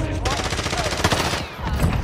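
Rapid bursts of video game gunfire crackle densely and loudly through the moment, overlapping in quick volleys with game effects mixed in, while players talk over it.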